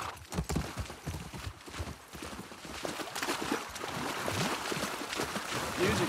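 Horse hooves clip-clop along at a walking pace in The Last of Us Part II, close by, over a growing wash of background noise.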